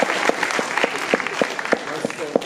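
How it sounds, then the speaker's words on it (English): Audience applause at an alumni panel event, a dense patter of many hands clapping at moderate volume with a few louder individual claps standing out. "Nobody wants to clap?"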